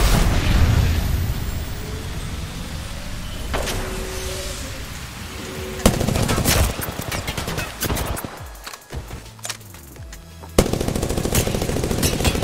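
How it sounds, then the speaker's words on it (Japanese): Apex Legends firefight with a grenade blast amid dense rapid automatic gunfire, bursts of shots cutting in and out over several seconds, loud and close with mechanical weapon clatter between volleys. "グレネード。"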